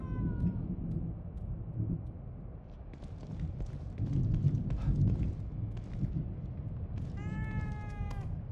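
A cat meows in the horror game The Evil Within 2, a couple of soft calls over a low droning ambient rumble, with a clearer rising meow near the end.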